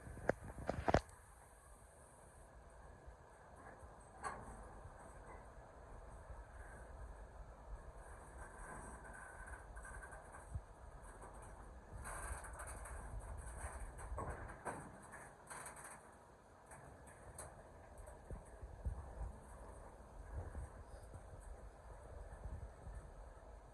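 Train slowing to a stop on the East Coast Main Line near York, heard from on board: faint rumbling and clattering of rail cars with scattered clicks and squeaks, continuing steadily throughout.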